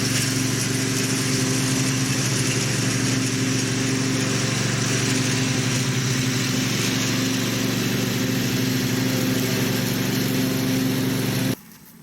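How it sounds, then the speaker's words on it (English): A lawn mower runs steadily and loud for about eleven seconds on a homestead lawn, its engine drone constant as it cuts grass, then cuts off abruptly near the end. "I mow the lawn with each swipe or sweep of the mower"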